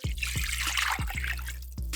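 Cold fresh water poured over salted goose breasts topped with lemon slices, close up, a trickling, splashing stream broken into repeated short glugs and drips.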